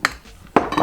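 A utensil scrapes ground seasoning out of a container while making pot roast: two short, close, clinking scrapes against the container within under a second.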